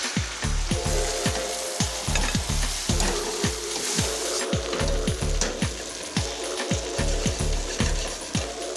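Spring onions frying in butter and a little olive oil in a non-stick pan, a continuous close sizzle with a regular series of low knocks and scrapes from stirring running through it, steady and fairly loud with no voices.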